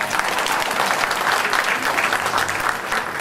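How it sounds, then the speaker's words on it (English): A crowd at a 2013 Malaysian election rally claps together, a thick steady burst of applause with slight swells in intensity, lasting a few seconds without talk over it. "Now that's something to clap for, right?"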